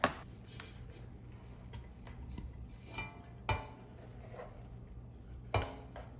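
Cooked rice being moved into a bigger pot to cool during home meal prep: sparse, quiet clinks and scrapes of a utensil against metal, with two sharper knocks, over a low steady kitchen hum and no talking.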